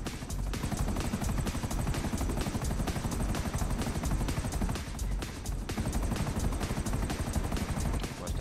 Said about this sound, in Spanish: Toma helicópteros. Más helicópteros.